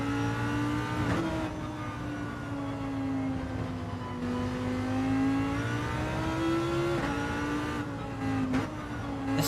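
Lamborghini engine racing in Gran Turismo 7, a loud continuous revving drone that climbs and dips through gear changes, with brief tire squeal, heard alone without talk.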